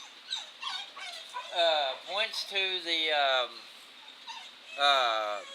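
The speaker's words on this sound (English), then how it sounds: "let me let that dog out" A dog whimpers and yips in a series of high, wavering whines and short barks nearby, with a voice briefly heard among them.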